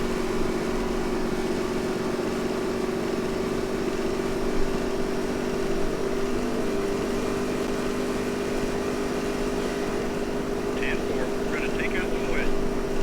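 A race car engine in a NASCAR racing video game set at the 1970 Alabama 500 drones steadily and loudly throughout, holding a constant pitch with the revs eased off as the driver lifts.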